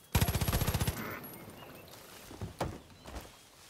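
Automatic gunfire in Far Cry New Dawn: a loud, rapid burst of about a dozen evenly spaced shots, followed by a few fainter scattered shots and thuds.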